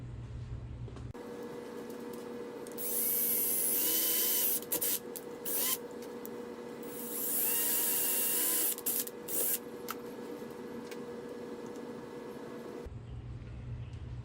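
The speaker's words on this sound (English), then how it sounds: "If you start with a 1/8 inch drill bit, then you don't have to worry about it sliding off the sides." A small power drill with a 1/8 inch bit whines in two sustained bursts of a few seconds each, with steady motor hum and brief pauses between, fairly close.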